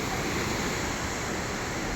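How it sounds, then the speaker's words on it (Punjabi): Heavy rushing river water at Harike Pattan, the river headworks feeding twin canals toward Rajasthan, roars steadily and close, splashing in a dense unbroken wash with no talk. "ਇਹ ਦੇਖੋ ਬਾਈ ਪਾਣੀ ਦਾ ਛਗਾਟਾ ਪੈਂਦਾ"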